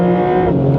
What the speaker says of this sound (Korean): 이 터널 안에서 스포츠 플러스 작동을 하고 킥다운을 했을 때